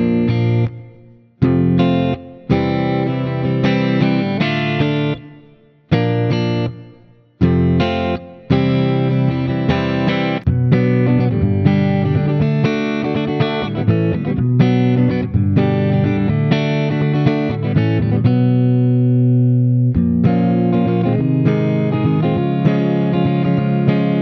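An electric guitar run through distortion and chorus effects strums chords in a steady eighth-note rhythm, loud and close. Brief silent breaks come early on, then the chords ring on continuously.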